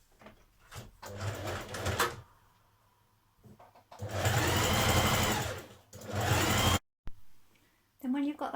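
A sewing machine stitches a sleeve into a hoodie in two long, loud, steady whirring runs, broken by shorter bursts and pauses, with a voice speaking between them.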